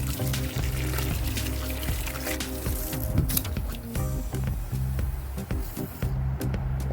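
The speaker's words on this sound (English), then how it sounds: "I'm gonna water it." Water poured onto a newly planted Jamaican sweet potato, a steady close splashing and trickling into soil that runs for about seven seconds without any talk.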